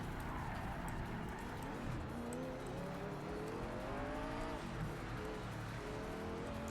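A V8 supercar in the Project CARS 3 racing game drives a wet track, its engine droning steadily with rising and falling pitch as it shifts through gears, tyres hissing over the spray.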